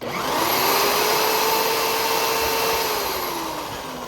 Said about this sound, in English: pull down this trigger, and it'll start to engage the tines or the Scarifier attachment